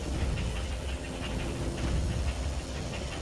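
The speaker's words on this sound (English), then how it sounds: "Good news, I hear more than one engine." Several WWI aircraft engines running in the Wings Over Flanders flight game, a continuous low droning rumble at steady level with no pauses.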